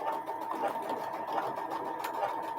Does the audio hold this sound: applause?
no